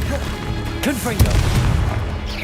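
A Confringo fire-blast spell from Hogwarts Legacy goes off as a sharp burst with a booming thump, followed by rumbling magical impacts and whooshing tones amid other combat effects.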